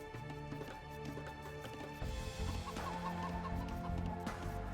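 Chickens cluck repeatedly in the Age of Empires video game, with a short run of clucks standing out over continuous low game sounds and ambience, and no talk over them.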